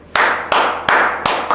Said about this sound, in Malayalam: അങ്ങനെ കൈയടി മാത്രമേ ഉള്ളൂ